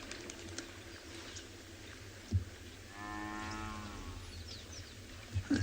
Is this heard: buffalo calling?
yes